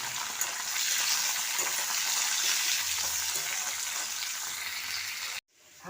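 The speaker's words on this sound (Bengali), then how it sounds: "পটলটা হালকা করে ভাজা হয়ে গেছে" Thin-sliced pointed gourd (potol) frying in a pan, a steady close hissing sizzle that continues evenly and then cuts off abruptly near the end.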